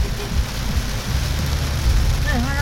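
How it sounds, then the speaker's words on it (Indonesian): Heavy rain in a steady, dense roar, heard close while driving home from a picnic, with a faint tonal squeal near the end. "hujan deras."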